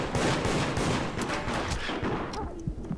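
Rapid gunfire from a round of the multiplayer horror game Deceit, a dense, continuous burst of shots packed close together for about three seconds, loud and near, with no voices over it.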